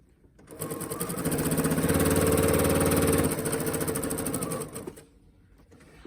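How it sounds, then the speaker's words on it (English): A sewing machine runs a short burst stitching fabric mask pieces together along a quarter-inch seam, a close, steady mechanical whir with rapid needle clatter that rises, holds for about four seconds and then stops. "Sew your pieces together in half."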